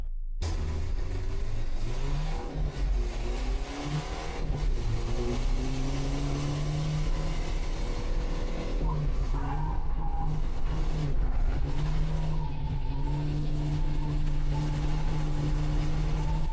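A BMW E92 drift car accelerates hard in third gear on the Kielce track: a loud continuous engine roar that climbs in pitch toward the limiter, with tire noise beneath.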